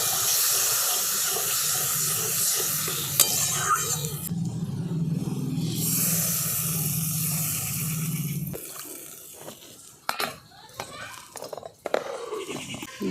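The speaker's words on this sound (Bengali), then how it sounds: "এরপর আমি দিয়ে দিচ্ছি পরিমাণ মতো জল।" Water poured from a tap or jug into a pan of jackfruit seeds coated in spice mixture, a steady close splashing and hissing fill for about eight seconds, then quieter clatter and scattered kitchen knocks.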